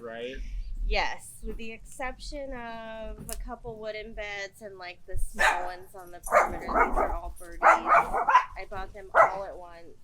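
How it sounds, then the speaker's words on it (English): A dog barks intermittently near a backyard raised-bed garden in Elk Grove, California, its barks mixed in with a person's ongoing talk; the barking grows busier toward the end. "Excuse my dog. He's guarding us."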